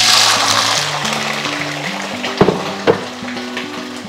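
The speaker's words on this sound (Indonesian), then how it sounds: "Kita panasin minyak lumayan banyak karena kita mau oseng bawang merah." Shallots frying in a generous amount of hot oil give a steady close sizzle, with a few brief louder clatters of stirring midway, over a droning musical background.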